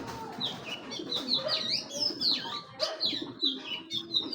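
A silver-eyed ring pigeon coos nearby in low, rolling calls, mixed with brighter chirps and rising squeaks that come in short bursts, with no voices heard.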